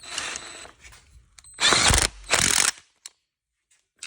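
Ratchet clicking as an 18 mm cam bolt is started on a 6.4 engine: a couple of loud, close bursts of rapid pawl clicks with short pauses, then a few faint isolated ticks.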